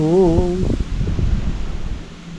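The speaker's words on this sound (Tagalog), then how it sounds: "Ang lakas na naman ng hangin." Strong wind blows outdoors, buffeting the microphone with loud, low, rumbling gusts after a brief vocal sound at the very start.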